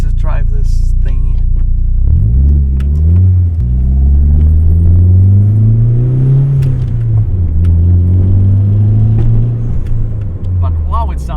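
A Nissan 200SX S13 on the move gives a deep, steady engine rumble from inside the car, pitch rising and falling as it accelerates and shifts, with a person talking over it now and then.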